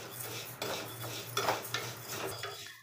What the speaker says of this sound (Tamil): இதை வந்து ஒரு சட்டியில் போட்டுட்டு நல்லா அடி பிடிக்காமல் வறுத்துக்கலாம்.